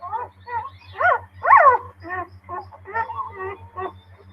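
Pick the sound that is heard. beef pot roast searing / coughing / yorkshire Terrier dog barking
yorkshire Terrier dog barking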